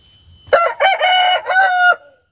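A rooster crows loudly and close by at a forest farmyard with chickens and chicks, one full multi-part cock-a-doodle-doo lasting about a second and a half, standing alone with no talking.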